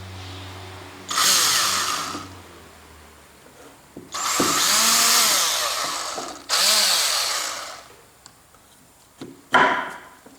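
An electric drill bores through a wooden guide block in three sustained, loud whining bursts of a few seconds each, separated by pauses, then a final short burst of drilling.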